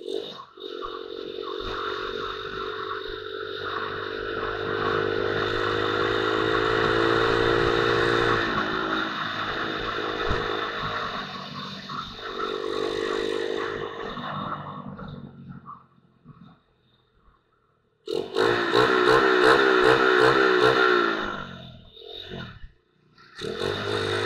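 Motorcycles ride together in a small group around Piraeus and Mikrolimano, engines droning and rising in pitch as they accelerate, dropping away to near quiet before a loud revving burst returns.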